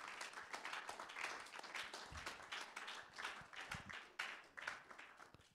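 A church congregation applauding during a worship service, steady enthusiastic clapping from a crowd of worshippers, fairly close and continuous, with faint voices mixed in.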